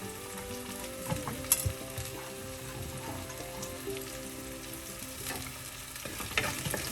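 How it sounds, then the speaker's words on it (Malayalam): Shallots and curry leaves fry in oil in a pan for a pepper sardine dish, a steady crackling sizzle with occasional stirring knocks, moderately quiet and without voices. "അതിലേക്ക് ചാച്ചി വെച്ചിരിക്കുന്ന ചെറിയ ഉള്ളി കറിവേപ്പിലയും കൂടെ ചേർക്കുക"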